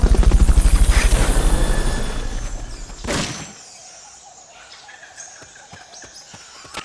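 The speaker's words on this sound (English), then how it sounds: "Fulton recovery subject confirmed onboard helicopter." A loud, rapidly pulsing helicopter rotor thumps up close in Metal Gear Solid: Peace Walker, fades over a few seconds, then gives way to a quieter background with scattered faint sounds.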